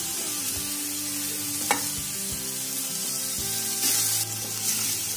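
Carrots and cabbage for momo filling fry in a hot pan, giving a continuous close sizzle with occasional stirring scrapes and a faint steady background hum.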